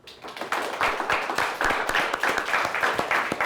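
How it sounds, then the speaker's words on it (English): Applause from a studio audience at the close of a high school quiz show match, a dense crowd of claps sustained and fairly loud throughout, with no talk over it. "Let's give them both a nice round of applause."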